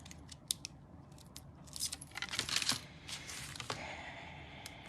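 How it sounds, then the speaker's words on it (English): Scissors snip through card stock for a folded flower card: a series of crisp, close cuts, with a quicker cluster of snips midway and faint paper rustling between them. "I'm just gonna snip one of them off."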